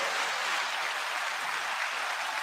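Applause greeting a guest on a hip hop culture talk show, a soft, even patter of clapping heard at a moderate distance, steady and unbroken, with no voices over it.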